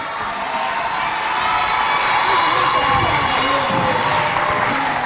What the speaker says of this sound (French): est-ce qu'on peut applaudir pour les deux équipes face à face?